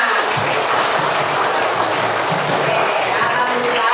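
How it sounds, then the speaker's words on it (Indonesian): A classroom group applauds during a teaching session, a dense, even patter of many hands clapping at a steady level throughout. "Tepuk tangan."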